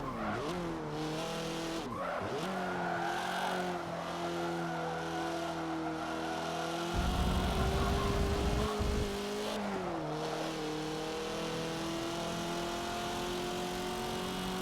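A stock race car in Forza Motorsport 7 drones steadily around a track, engine note rising and falling through gear changes and corners, with brief tire scrub, continuous and fairly close with no talk.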